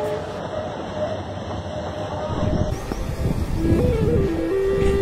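Train running on the line toward Goram Ghat in Rajasthan's Marwar region, a steady rolling rumble with rail noise that swells slightly louder partway through; a faint tonal whine rises near the end.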